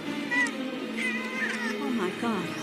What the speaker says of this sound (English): Oh no. Patrick, please don't hurt the cat.